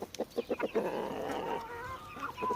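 A quick series of sharp clucks from hens gathered around a rooster in a garden, rhythmic at first and then blending into softer calling, fairly close.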